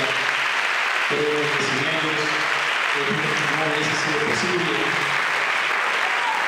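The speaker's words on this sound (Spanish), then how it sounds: "vaya el aplauso para todo el equipo de Dirección de Cultura" Audience at a cultural event applauding in a steady, dense patter while someone speaks over the clapping, his voice prominent and close above the crowd.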